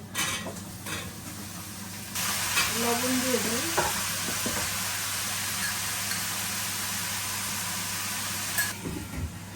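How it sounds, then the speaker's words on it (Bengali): Vegetables hit hot oil and fried onion in a pan, giving off a loud, steady sizzle with stirring scrapes, while someone speaks briefly over it. "পেঁয়াজটা আমার ভাজা হয়ে গেছে, এখন এই যে আমি সবজিটা দিয়ে দিই"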